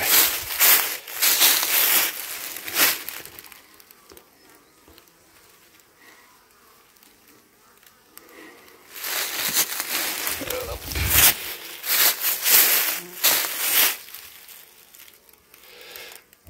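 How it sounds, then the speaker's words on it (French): Honeybees buzzing around the hive of a small swarm from the previous July, close bursts of dense buzzing that swell and fade, with quieter stretches between. "c'est le petit essaim de juillet de l'an dernier"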